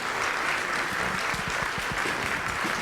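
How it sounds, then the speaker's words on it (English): An audience claps steadily at a fourth-grade spring instrumental school concert, a dense, even patter of many hands filling the room without pause, with a few louder individual claps near the end. "can we actually give our administrators a round of applause"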